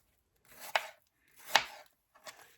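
Three sharp knife strokes hit a cutting board while chopping ingredients for a Waldorf salad, each a crisp close-up thud spaced roughly a second apart in a quiet kitchen.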